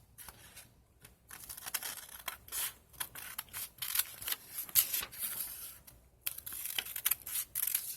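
Scissors cut paper down for a junk journal, a close, quiet series of crisp snips and rustles at an irregular pace with short pauses between cuts.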